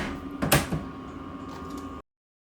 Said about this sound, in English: knock them back down